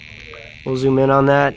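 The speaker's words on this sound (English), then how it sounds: "Now you can hear the potentiometer is making a sound right now." A buzzer on an electronic game board, driven by a potentiometer setting, sounds a steady harsh tone for just under a second, with a faint electronic whine before it and a person talking at the start.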